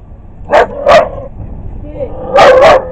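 Dog barking loudly nearby, two sharp barks followed by a pause and then a doubled bark, with a faint background murmur.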